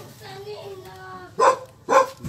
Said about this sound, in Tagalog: Huwag mo na, may aso.